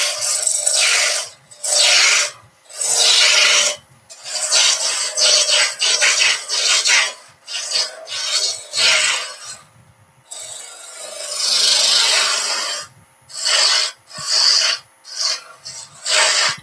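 A lathe gouge roughs down a wooden baby toy, producing loud, close bursts of rasping, scraping cuts that start and stop in an uneven rhythm with short silences between passes.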